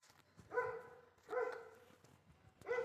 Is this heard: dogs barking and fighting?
yes